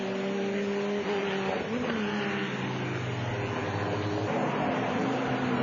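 A GT race car at Watkins Glen runs loud and continuous, its engine note rising and falling through gear changes as it threads through traffic, with other cars audible close by throughout.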